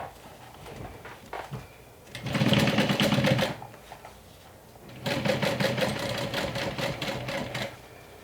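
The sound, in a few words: sewing machine stitching a seam on a bag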